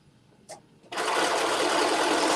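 A sewing machine starts up after a soft click and runs continuously, stitching around the pockets of a Butterick jumpsuit with a fast, steady whir close to the microphone.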